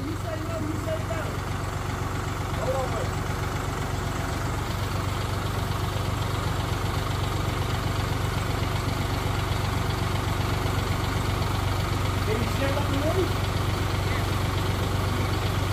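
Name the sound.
tractor engine idling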